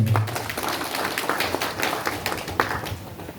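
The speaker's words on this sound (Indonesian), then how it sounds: "tepuk tangan semua" Audience clapping at a public gathering in Kebumen Regency: a crowd of hands patters steadily at moderate loudness, with a faint voice at the very start.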